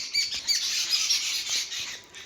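Sparrows chirp steadily in a tree, a dense run of quick, bright tweets overlapping one another with no pauses.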